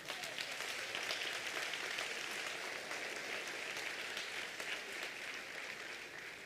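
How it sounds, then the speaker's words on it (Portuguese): A church congregation applauding together, a dense, even wash of clapping that stays fairly distant and soft and continues steadily to the end. "Aplauda ao Senhor."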